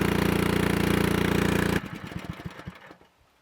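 A loud, steady engine drone of an engine-driven water pump runs, lugging down, then cuts off abruptly midway, leaving sputtering knocks and splashing that fade to near silence.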